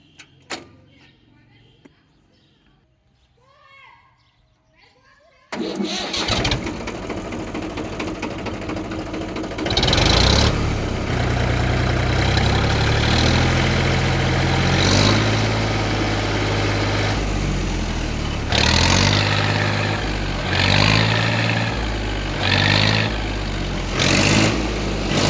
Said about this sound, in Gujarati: હવે આપણે ટ્રેક્ટરને સ્ટાર્ટ કરીને બતાવીએ।